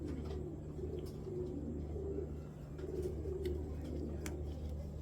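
Racer pigeons coo in soft, repeated low rolls over a steady background hum, with no one speaking.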